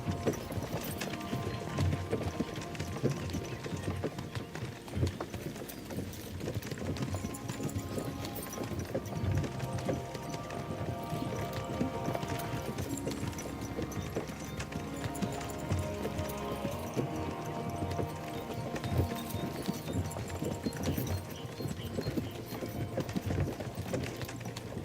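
Horse hooves clip-clopping as a sound effect in a dramatic read-aloud, a steady continuous rhythm of hoof beats at close range throughout, with no talk over it.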